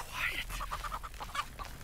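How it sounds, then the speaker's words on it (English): Alarm chickens in The Texas Chainsaw Massacre video game give a quick run of faint, squawking clucks in a short rhythmic burst, distant and low in the game mix. "they got alarm chickens."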